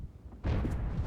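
Artillery fire in World of Tanks: a single heavy blast erupts abruptly after a quiet moment, then a loud rumbling boom rolls on for the remainder without any voice over it.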